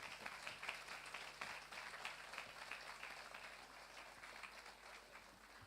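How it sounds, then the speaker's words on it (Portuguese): A church congregation applauds during a worship service, a faint, fairly distant patter of many hands clapping that holds steady and then gradually thins out toward the end. "E uma salva de palmas para eles"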